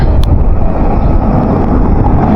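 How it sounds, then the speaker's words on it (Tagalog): Strong wind buffets the microphone in a constant, loud, low rumble with no speech. "Malakas ang hangin."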